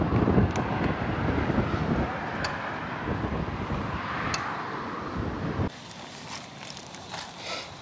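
Gusty wind buffets the microphone at a riverside rest stop on the Dommel, a steady loud rumble with occasional footsteps, easing to a quieter breeze near the end.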